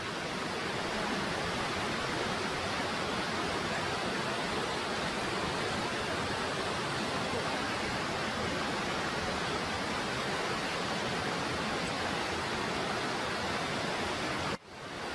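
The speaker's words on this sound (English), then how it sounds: "Alright, we're right over the waterfall." A waterfall rushing below a high vantage point in cold weather, a loud, steady broadband roar that holds unbroken for the whole stretch and cuts off suddenly at the very end.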